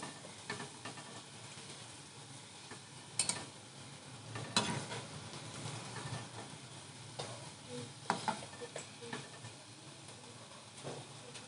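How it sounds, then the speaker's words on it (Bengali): Vegetable chops deep-frying in plenty of oil, a soft continuous sizzle with occasional louder clatters and scrapes as the pieces are turned over in the pan, moderately quiet and without speech. "দেখুন ভেজিটেবিল চপগুলো উল্টে পাল্টে ভালো করে ভেজে নেব।"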